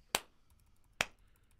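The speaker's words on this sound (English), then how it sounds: "Okay, clap test." Two sharp hand claps for a sound test, close to the microphone and about a second apart, each a crisp, bright snap that decays quickly in a quiet room.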